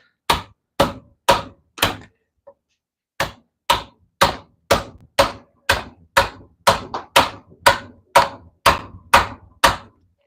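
A mallet strikes a chisel while carving a valley into wood, a close series of sharp, evenly spaced knocks with a brief pause early on before the steady blows resume, loud and alone.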